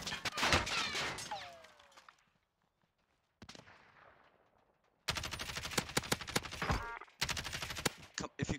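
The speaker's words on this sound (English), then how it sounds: "There's another sniper shooting at us." Gunfire in the video game Warzone, with sniper shots in a duos match: bursts of rapid, sharp shots crack close by, drop to near silence, then resume in dense volleys, alongside brief voices.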